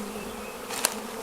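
Honey bees at an opened nuc hive buzz in a close, continuous swarm drone, with one insect passing loud near the microphone partway through.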